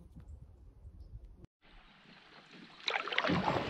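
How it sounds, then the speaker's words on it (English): Canoe paddling on a lake in Temagami after a portage: soft, steady water and hull noise, then a short cut, and from midway the paddle strokes grow louder and splashier up close, with no voices. "It feels great to paddle again."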